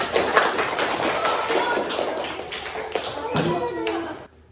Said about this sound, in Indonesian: tepuk tangan untuk kelompok ayam